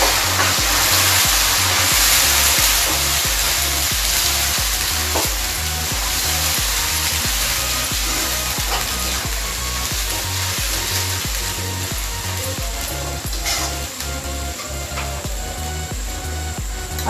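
Onion paste frying in a pan while cooking jackfruit kofta, a loud dense sizzle with steady crackling and a repetitive stirring rhythm underneath, close and continuous throughout.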